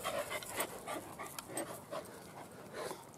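A dog pants steadily and rhythmically up close, quick breaths repeating through faint background noise outdoors on a morel mushroom hunt, with no talk.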